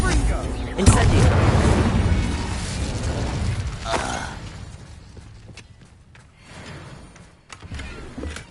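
A fire spell cast in the video game Hogwarts Legacy: a loud whooshing burst with crackling flare that fades over several seconds, followed by quieter scattered game effects, with a voice present.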